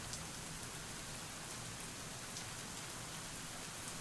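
Video game rain falls steadily as a faint, even wash of drops with no break or variation throughout.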